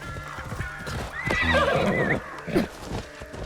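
A horse neighs and whinnies loudly in Assassin's Creed Shadows, one long rising and falling call followed by snorts, with hooves clip-clopping underneath.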